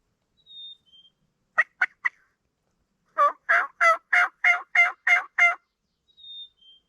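Several wild turkey gobbles ring out during a spring turkey hunt: a short burst of three sharp notes, then a rapid run of about eight loud, rattling gobbles, with faint high bird chirps before and after.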